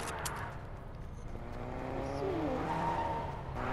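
A car drives in the Fortnite video game, its engine droning steadily while a tire squeal rises and falls near the end, with no talk over it.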